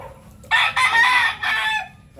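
A gamefowl rooster with a straight comb and round head crows once, loud and close, in the early morning before feeding. The call lasts over a second with a few distinct rising and falling segments.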